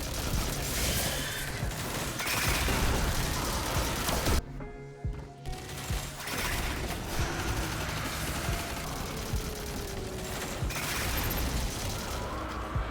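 Exodus rockets fire in the video game Destiny 2, a dense run of launches and explosive booms with a brief lull partway through, loud and continuous with no voices.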